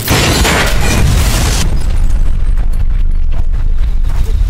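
A loud, sustained film explosion, set off by a knife in a microwave with a cut gas pipe, roars and rumbles with a deep low-end boom, then settles into a heavy, continuous rumble.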